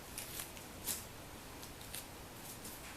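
Scissors trimming fabric for a sewn zipper bag, giving a few faint, close snips against quiet room hiss, one crisper cut standing out.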